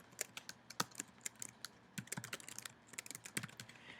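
Email address being typed on a computer keyboard, a steady run of close, crisp key clicks with uneven rhythm and a few louder strikes, heard alone without talking.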